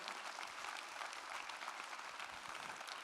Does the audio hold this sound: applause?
yes